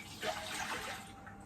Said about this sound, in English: put the rest of the vinegar in the pot